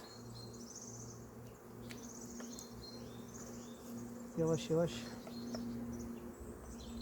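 Honey bees buzz around an open hive during a spring colony inspection, a steady low drone under faint outdoor ambience, with someone speaking briefly partway through.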